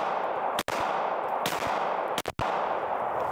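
A handgun fitted with a red dot sight fires a few sharp, loud reports at an outdoor range, close to the mic, over a constant harsh rush of wind or background noise.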